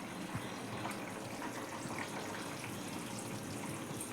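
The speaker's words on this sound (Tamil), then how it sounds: "அந்த தண்ணியை மட்டும் ஊற்றிக்கலாம்." Tamarind soaking water pours steadily into a pan of pea and potato curry, a faint continuous trickling splash lasting a few seconds.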